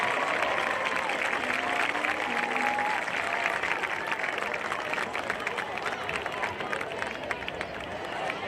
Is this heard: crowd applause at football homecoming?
yes